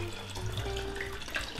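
Water poured into a bowl being tested for leaks after a Flex Seal repair, a steady close splashing and trickling stream that runs unbroken from start to finish.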